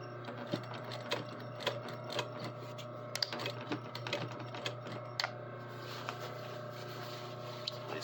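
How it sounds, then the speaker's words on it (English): A sewing machine runs steadily along a garment inseam after a backstitch, its rapid mechanical chatter close and continuous with a constant motor hum underneath and occasional brief pauses. "Backstitch that and start running this seam."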